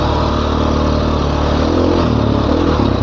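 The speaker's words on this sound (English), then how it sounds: "On a BMW F800 GS." BMW F800 GS motorcycle ridden along a Colorado trail, its engine droning steadily and loudly up close with small shifts in pitch as the throttle varies.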